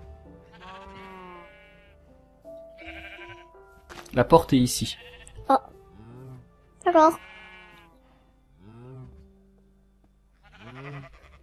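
Minecraft sheep bleat several times in wavering, nasal cries spread across the scene, with players talking in French over them and a few sharp clicks and thumps in between.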